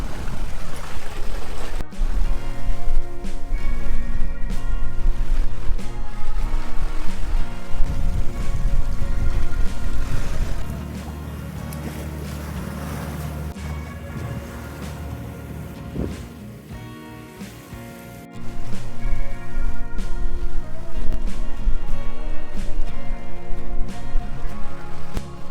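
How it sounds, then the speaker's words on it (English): A sailboat motor-sails with the genoa out, giving a steady, loud rush of water and wind over a low engine drone with musical tones mixed in, briefly dropping quieter midway before the full wash returns. "So we've got the Genoa out. We're still motor sailing though."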